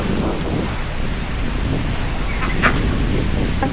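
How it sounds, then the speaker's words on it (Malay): Cold spring wind gusting outdoors in Chengdu, China, a steady broadband rush with microphone buffeting throughout, fairly loud and continuous, with faint bird calls briefly audible in the background. "Oi, angin dia sejuk."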